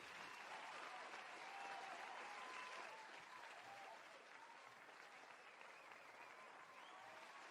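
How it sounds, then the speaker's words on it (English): Continuous crowd applause, soft and somewhat distant, holds evenly throughout with a faint murmur of cheering. "Applause."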